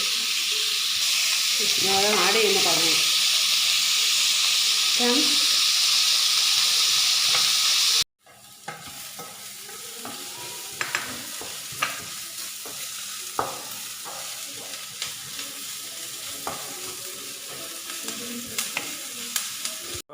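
Salted onions fry in a pan for a soya bean dry fry, a loud steady sizzle with stirring scrapes, then after a cut a quieter sizzle with frequent clicks of the spoon against the pan.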